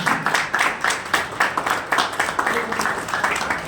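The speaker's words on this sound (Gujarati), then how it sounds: "ખૂબ દીકરીને તાળીઓથી વધાવીએ." Steady applause from an audience honouring a girl at a Gujarati arts school event in Deesa, rhythmic collective clapping that stays loud throughout, with a voice speaking over it.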